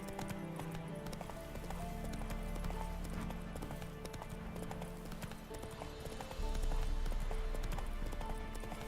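Roach, the horse in The Witcher 3, trots with a steady, rhythmic clip-clop of hooves that stays close and clear across the stretch, with game music and ambience playing faintly underneath.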